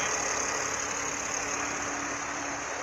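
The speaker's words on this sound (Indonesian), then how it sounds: "Ini mesin 6 silindernya" A Mercedes-Benz W124 E320 with an inline six-cylinder engine converted to run on gas idles steadily, a smooth continuous hum with a faint whine, close by and even throughout, no voices.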